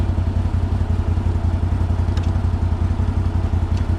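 Steady, loud engine drone from a CFMOTO 800 XC motorcycle on level ground, a continuous even rumble with faint mechanical clicks and no speech over it.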